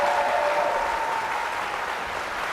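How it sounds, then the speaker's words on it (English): An audience at an Ohio gubernatorial debate claps steadily, a dense wash of applause at a consistent level that tapers slightly toward the end. "Audience, you can applaud now if you'd like."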